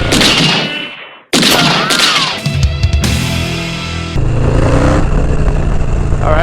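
A motorcycle is ridden at night, its engine roaring loudly and close, revving up and down through gear changes with wind rush and a brief drop in sound.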